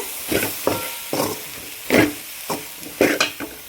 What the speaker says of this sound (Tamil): எல்லாம் அப்படியே கலந்துக்கிட்டுக்குங்க